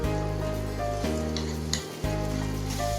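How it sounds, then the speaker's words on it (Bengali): A paste of green chili, ginger and black cumin fries in ghee over low flame, sizzling steadily and loudly up close with a brief dip and a few stirring scrapes. "লো ফ্লেমে মিশ্রণটাকে কিছুক্ষণের জন্য ভাজতে হবে"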